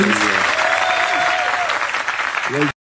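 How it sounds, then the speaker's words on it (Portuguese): Applause from a crowd, steady clapping throughout with a few cheers and a whistle rising over it, ending abruptly. "Uma salva de palmas, Kaká Diniz."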